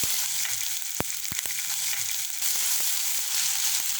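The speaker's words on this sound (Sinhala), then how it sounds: "දැන් හොඳට තෙල් ටික රත් වෙනකොට මම ඒකට දැන් ඉඟුරු සුදුරුණු මිශ්‍රණයෙන් තේ හැඳි එකක් දාගත්තා" A spoonful of ginger garlic paste fries in hot oil for a Sri Lankan chicken curry, giving a steady close sizzle with a few sharp clicks of a spoon against the pan.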